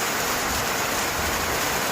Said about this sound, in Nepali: ठुलो वर्षा भइरहेको छ।